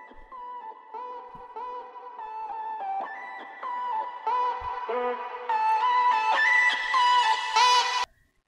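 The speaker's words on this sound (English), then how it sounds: "I took the vocal chops and put it in the build-up part and had the filter open gradually" Chopped vocal syllables in a melodic bass build-up, a repeating pitched pattern that grows brighter and fuller as a filter gradually opens, then cuts off abruptly near the end.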